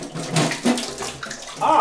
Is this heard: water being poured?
yes